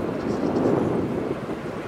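An RAF Chinook helicopter flies in a role demonstration display at RIAT 2024, producing a loud, steady, deep rotor and engine roar with a windy rumble throughout.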